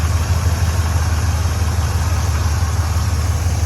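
A car engine idles steadily right after cranking on a renewed battery, a loud, even, low rumble close by with no voices.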